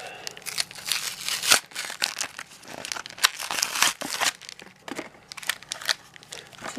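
A 2020 Topps Series 1 three-card value pack being torn open, with crinkly foil wrapper and sharp ripping in repeated close bursts across several seconds. No voices.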